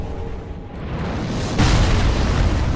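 A blast or gunshot-like boom in Dark Souls 3, a broad rumbling burst that swells and hits harder midway, loud and alone without talk.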